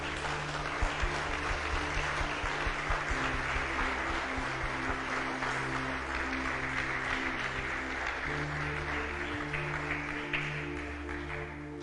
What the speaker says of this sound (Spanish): Ahora denle un fuerte aplauso al Señor.